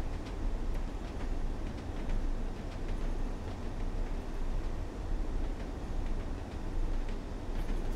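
A Class 101 diesel multiple unit running at night in Train Sim World 2 gives a continuous, even rumble of engine and wheels with faint rhythmic clicks, steady throughout and unbroken by talk.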